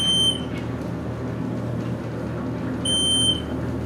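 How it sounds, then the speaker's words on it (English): A Kencor elevator beeper in a university main hall sounds two short, high electronic beeps, one at the start and another about three seconds later, over a low steady hum of machinery. "That beeper is sick!"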